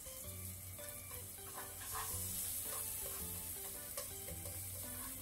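Ingredients sizzle lightly in a pan as they are stir-fried for a single home-cooked serving, a soft steady frying hiss with faint clinks of stirring.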